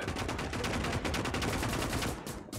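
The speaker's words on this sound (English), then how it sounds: "AI MG34 all alone defending up there" An MG34 machine gun in the Gates of Hell video game fires a sustained, rapid automatic burst. The rhythmic shots come evenly and loudly, then cut off abruptly near the end.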